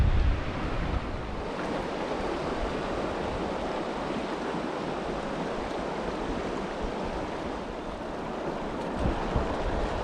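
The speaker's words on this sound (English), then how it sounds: "Really, really, really windy." Strong, steady wind roars across the microphone for the whole stretch while fly fishing on a tailwater trout river, a constant broadband rush with gusty buffeting, no voices.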